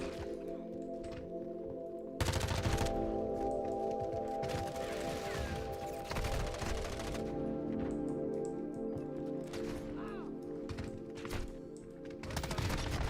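Gunfire in the video game Modern Warfare 2 comes through as dense, sustained bursts with loud rapid shots over a constant musical or ambient bed, and a sharp onset around two seconds in.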